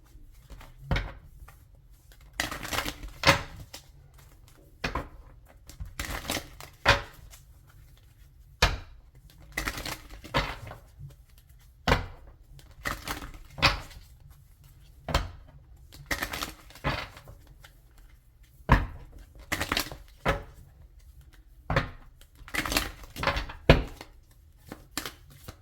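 Tarot cards are shuffled by hand, giving repeated short riffling bursts and soft slaps in an irregular rhythm, close and fairly quiet, with no voice over them.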